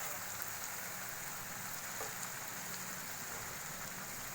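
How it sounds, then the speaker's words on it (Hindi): Masala spices for fish biryani, loosened with a spoonful of water, fry in a pan with a steady, even sizzle that runs unbroken throughout, with no talking. "और अब इसको हम मसाले को थोड़ा सा भून लेंगे।"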